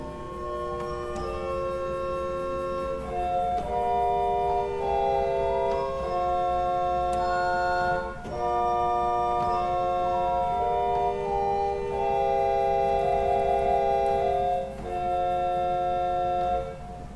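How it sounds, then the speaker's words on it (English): Soft, breathy Willis pipe organ tones move through a slow sequence of held chords over a deep steady 16-foot bourdon bass drone in the swell, with a flute-like upper line. "that is a 16-foot bourdon that they've added to the swell."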